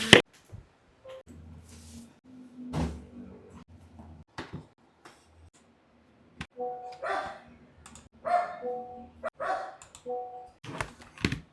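A dog barks repeatedly at close range, the yaps arriving in irregular bursts with gaps of quiet between them, in a home where someone is working remotely.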